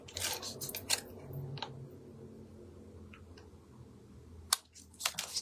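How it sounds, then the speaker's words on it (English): Scissors snip through card in quick crisp bursts during stamped card-making, a cluster of sharp cuts at the start and again near the end with quieter handling between. "I just want to cut that bit off."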